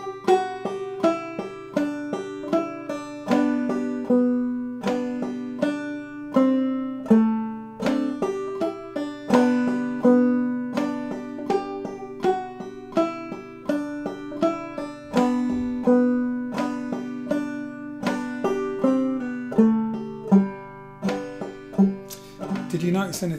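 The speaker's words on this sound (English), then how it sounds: "Buffalo Girls, B part," Clawhammer banjo picks out the B part of the fiddle tune Buffalo Girls, a steady bright stream of plucked notes with a rhythmic frailing bounce, played close and alone without talk.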